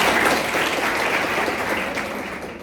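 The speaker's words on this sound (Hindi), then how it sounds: "वाह, ताली हो जाओ।" College students in a classroom or hall clap together in a dense, steady burst of applause that stays loud throughout and tapers slightly at the end.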